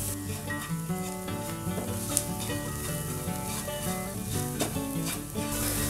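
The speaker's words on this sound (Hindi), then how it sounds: "सभी चीज़ों को मिक्स कर लेंगे और मसालों को एक मिनट तक चलाते हुए भून लेंगे।" Ground spices, including coriander powder, roast in a pan while being stirred, making a loud, continuous sizzle with scraping and a musical tone underneath.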